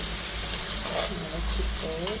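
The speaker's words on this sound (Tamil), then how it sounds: "காஷ்மீர் சில்லி கொஞ்சம் கலர் வர வந்து போட்டுட்டு நல்லா வதக்கணும்." Kashmiri chilli sautéing in a pan, a steady, close sizzle and fry hiss that carries without a break, with faint stirring scrapes underneath.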